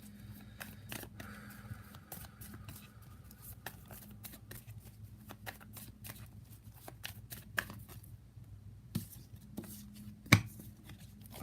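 Tarot cards are shuffled in soft, quiet riffles and taps, with scattered clicks and a low steady hum underneath and one sharper snap near the end, with no talking.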